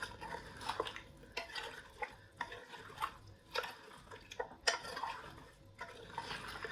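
Milk being mixed into chicken biryani in a handi pot produces faint, irregular scraping and clinking of a spoon against the pot, with soft wet stirring between strokes and no voices.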